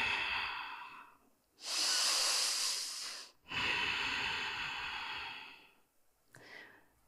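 Slow, deep breathing during a seated yoga twist: a long audible inhale, then a longer airy exhale, and a softer third breath at the end, close and quiet with no talking.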